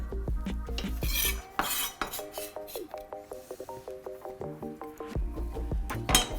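Chopped fresh dill tipped into a bowl of dough ingredients for healthy poğaça and mixed with a utensil, giving repeated clinks and scrapes of metal on the bowl in a steady rhythm, close and fairly loud, with no talking.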